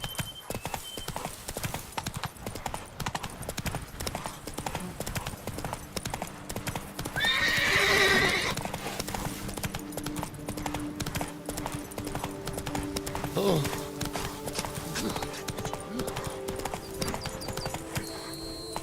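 Horse hooves clip-clopping at a steady gallop in The Witcher 3 video game, a continuous rhythmic beat with a clear neigh partway through, and no one talking.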